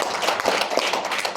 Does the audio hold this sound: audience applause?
yes